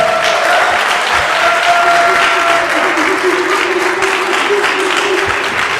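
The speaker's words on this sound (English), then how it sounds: "go ahead and clap hands real quick" An audience claps steadily at a motivational speaker event, a dense, close wash of applause that holds at full loudness throughout, with a few faint cheers and voices mixed in.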